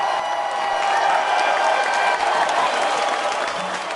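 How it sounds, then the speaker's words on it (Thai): A concert crowd roars after a band's set, with continuous dense applause blended with cheering and screams, a sustained wash of noise at steady volume throughout. "เสียงกรีด และเสียงปรบมือยังดังไม่ขาดสาย"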